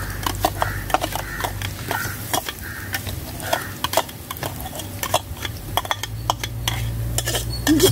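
A utensil stirs and scrapes in a pot where fried onions sizzle with ginger garlic paste for mutton dum biryani, giving close, continuous clinks and frying crackle with a low hum underneath.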